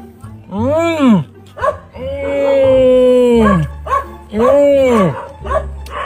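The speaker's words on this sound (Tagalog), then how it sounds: "Aso na yan." A dog barks and yips repeatedly up close, with long drawn-out whining howls in between, loud and clear over a low background hum.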